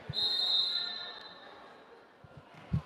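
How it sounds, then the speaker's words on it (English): One long, shrill referee's whistle blast rings out over gym noise at a girls' varsity basketball game, followed by a dull ball bounce near the end. "the ref blows the whistle"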